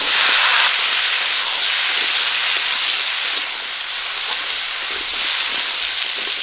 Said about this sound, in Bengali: পেঁয়াজ আর কাঁচা লঙ্কা ভেজে নিয়েছি। ধুয়ে রাখা কুমড়োগুলো দিয়ে দিচ্ছি।